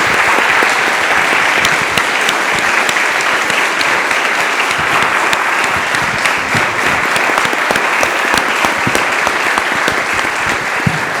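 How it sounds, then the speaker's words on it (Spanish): Sustained, loud audience applause at a Nagasaki testimony event, steady dense clapping filling the whole stretch with no speech over it. "por eso quiero que le demos otro gran aplauso a Yasuaki como Premio Nobel de la Paz"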